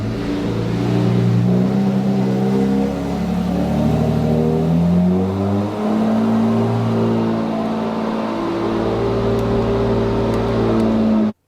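Rebuilt, previously flood-damaged Porsche 911 GT3 RS engine revving hard while stuck, unable to pull away, its loud, close engine note rising and falling through repeated surges before cutting off abruptly.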